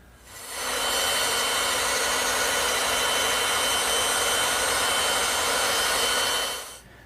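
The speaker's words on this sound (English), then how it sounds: "Then I'll rough them out on the bandsaw." A bandsaw rough-cuts wooden handle grips in a workshop, a loud, steady blade whine and cutting hiss running unbroken for about six seconds after a quick spin-up, then fading out at the end, with no talking.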